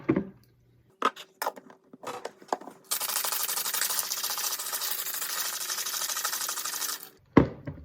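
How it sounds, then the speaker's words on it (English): A New York Sour being shaken in a cocktail shaker: a few separate knocks and rattles at first, then a continuous loud, close rattling swish of ice for about four seconds, ending in a sharp clack. "Now, we're gonna shake it up."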